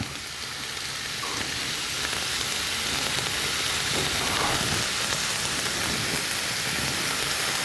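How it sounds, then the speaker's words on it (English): Steady, dense hiss and crackle of pineapple and mushrooms sizzling in a hot pan, continuous and fairly loud throughout, with no voices. "Oh, it's sizzling away nicely."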